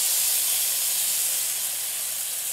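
Egg-free, batter-coated bread sizzles in a hot pan, giving a steady, bright, close hiss that stays even throughout the short moment, with no talking.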